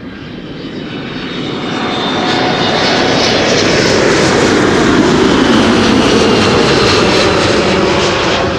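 A fixed-wing aircraft landing at Schiphol Airport, a loud, steady engine roar that swells over the first two seconds and then holds at full strength, close and unbroken, with no voices.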